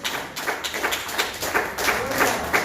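Church congregation clapping in scattered, uneven bursts, fairly close and moderately loud, with no voices over it.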